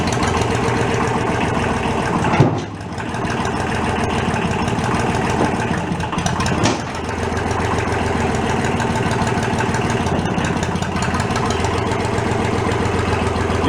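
A thrashed Kubota diesel tractor engine runs close by with a steady, rough knocking idle and a couple of short surges, with no talk over it.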